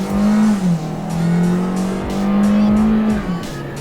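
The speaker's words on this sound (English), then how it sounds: "let's do a quick little acceleration test in this one, see how quickly we can get the new 2018 Hyundai Kona here up to speed" A 2018 Hyundai Kona in sport mode accelerates with a steady, high-revving engine drone, close and loud, holding pitch through a shift for a few seconds with no talk over it.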